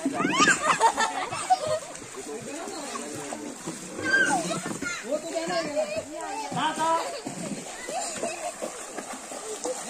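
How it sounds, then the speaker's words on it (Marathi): Water splashes repeatedly as children swim and play, with irregular splatters and sloshes mixed under lively, excited voices throughout. "देवाला नुसती सवय ती का नुसती पाणी उडवायची."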